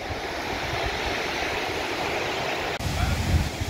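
The Manthoka Waterfall in Skardu, Pakistan, rushes with a dense, continuous roar of falling water. The sound holds loud and steady throughout, and there is a brief dip and shift near the end.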